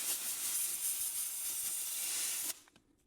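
A blast of compressed air from a big compressor cleans camera gear, a loud, close, steady hiss that holds for about two and a half seconds and then cuts off abruptly into quiet.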